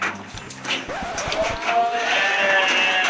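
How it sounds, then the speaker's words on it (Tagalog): Sheep and goats bleat at a farm in Bulacan where visitors can feed them, several overlapping wavering calls, fairly close and loud, with a brief human voice at the start. "Ilang boses rin pala ng mga sheep."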